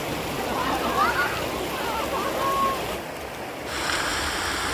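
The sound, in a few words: river water flowing and splashing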